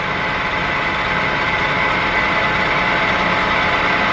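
Machine power tapping of holes in an aluminum block: a loud, steady motor drone with a broadband mechanical whir, continuous and unbroken, close by with no talk.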